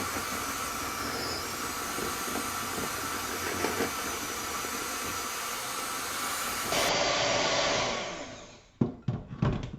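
An electric hand mixer whirs steadily as it blends an egg into a bowl of ingredients, loud and close for several seconds, then winds down and stops, followed by a few bumps and knocks.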